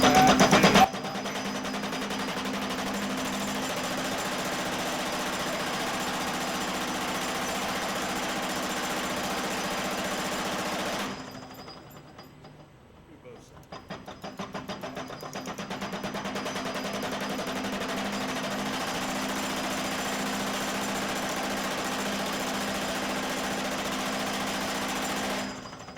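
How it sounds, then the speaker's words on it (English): A steady, loud mechanical hammering from a Woodford mini power hammer striking laser-welded metal in a bend test drones on for about ten seconds, stops briefly, then resumes just as loud and continuous until the end. "We're going to use this mini power hammer by Woodford."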